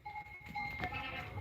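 Goats on a farm, dairy goats with full udders, bleat and call over low animal shuffling, ending in a sudden louder cry up close.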